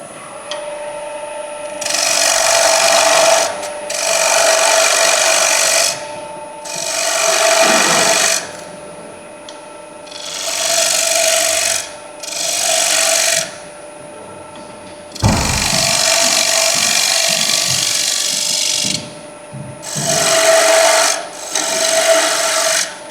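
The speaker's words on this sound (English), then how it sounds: "Do go very careful with the spindle gouge when using it on a bowl, so I take very, very light cuts when doing this." A spindle gouge takes very light cuts on a wooden bowl spinning on a lathe, giving repeated scraping, rasping passes of a few seconds each, separated by short pauses with the lathe's steady hum underneath.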